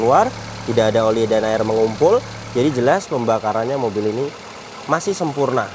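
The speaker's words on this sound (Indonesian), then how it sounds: "Dan ini suara mesinnya" A 2015 Daihatsu Sirion's 1300cc four-cylinder VVT engine idles with a steady low hum, largely buried under someone talking close by throughout.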